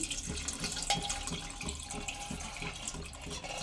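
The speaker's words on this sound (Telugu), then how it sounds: "చింతపండు రసాన్ని పోసేసుకోండి" Tamarind juice poured into a cooking pot for Telugu mettala pulusu, a steady trickling, splashing flow of liquid heard close up with no talk.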